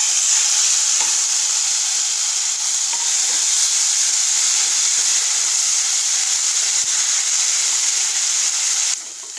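Ginger, garlic and green chilli sizzle loudly in a pan with roasted asafoetida for a dhaba-style palak paneer, a steady bright hiss running unbroken alone before easing slightly at the very end.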